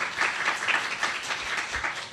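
Congregation at a church worship service applauding, a steady wash of many hands clapping at moderate loudness.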